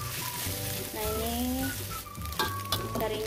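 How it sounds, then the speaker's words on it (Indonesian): Anchovies frying in hot oil in a pan, a steady crackling sizzle throughout with some stirring, close and continuous, while faint cooking-show background music plays underneath. "terinya aku goreng sampai garing ya"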